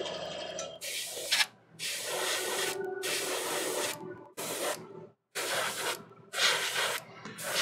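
An airbrush sprays paint glazes over a Games Workshop Magnus the Red miniature, producing bursts of steady airy hiss in repeated passes of one to two seconds, cut by short silent pauses.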